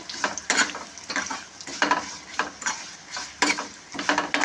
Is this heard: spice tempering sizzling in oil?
yes